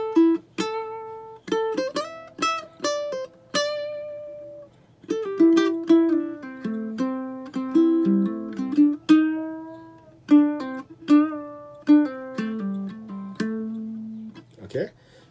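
Ukulele lead part from an intro lick, plucked notes with slides picked out one after another in a steady rhythm, some quick runs and held notes, played close and clear with no talking.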